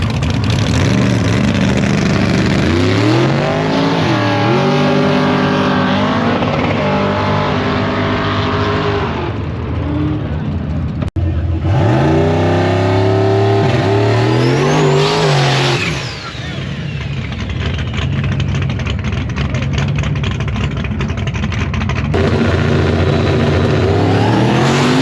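Drag race cars roaring hard down the strip at a St. Louis cash days event, loud engines rising in pitch as they accelerate, with a brief cut and a second pair screaming past close by.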